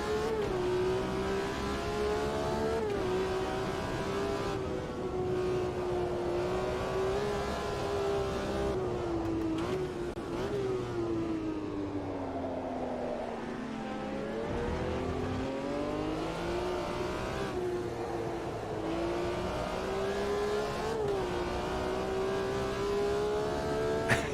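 Race car lapping Hockenheim in the Automobilista 2 driving game, a continuous engine whine rising and falling through gear changes and corners, with a dip around a braking zone, loud and close with no talk.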